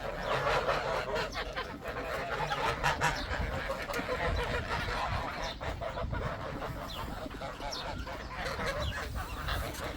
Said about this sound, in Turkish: Kazlar çekelim bakayım buradan ayak altında gezmeyin.